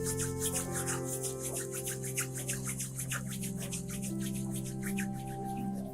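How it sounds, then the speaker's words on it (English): Two hands rub together in a steady back-and-forth rhythm, a soft, close, repeated swishing over a quiet background, with no voice heard. "rub your hands together"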